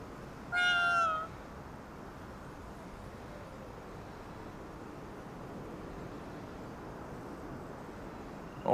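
A single cat meow from the video game Ghostwire Tokyo, clear and close, rising out of a steady low ambient hum that continues alone afterward.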